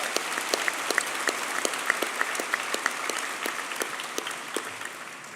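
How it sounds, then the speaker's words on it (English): A White Coat Ceremony audience at Burrell College gives a round of applause for donors. It sounds like a moderate crowd clapping steadily, with a few loud, distinct claps close by punctuating the broader wash. "please join me and give him a round of applause for our donors and our benefactors for medical education."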